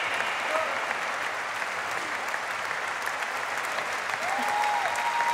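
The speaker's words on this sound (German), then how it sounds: "Großer Applaus!" Sustained applause from a large TV studio audience at a synchronized diving competition fills the room, steady and dense throughout with scattered cheers mixed in.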